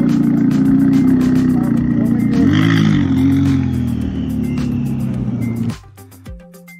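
McLaren supercar pulling away from an Orange County car meet, its engine humming steadily with a rising rev, then fading off as it departs, with people talking nearby.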